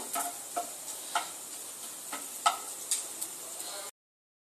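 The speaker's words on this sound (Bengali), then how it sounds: "দুটো শুকনো লঙ্কা নিয়েছি, এই তেলের মধ্যে একটু নাড়াচাড়া দিয়ে নেব।" Two dried red chillies are stirred in hot oil, with a faint, soft sizzle under sharp utensil scrapes and taps that come roughly every half second.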